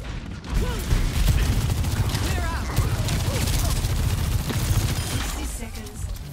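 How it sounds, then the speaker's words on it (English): Rapid gunfire and shots crackle continuously in a hero shooter video game, with mechanical clicks and a sniper rifle among them, under a busy mix of game noise and voices. "Wasted my sniper shot there."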